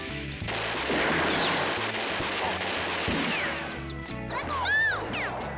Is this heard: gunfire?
yes